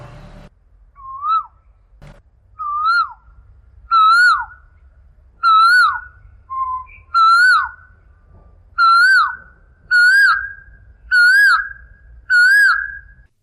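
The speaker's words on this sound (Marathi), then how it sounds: "कोकिळेचं जे कुहू कुहू आहे" An Asian koel calls its repeated kuhu, about nine clear whistled notes at a steady pace, each rising and growing louder and more insistent, over a faint low rumble.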